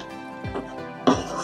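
A spoon stirs brinjal gravy (ennai kathirikai kulambu) in a metal pan, giving a few light scraping clinks close by, with a steady background hum and a faint voice in between.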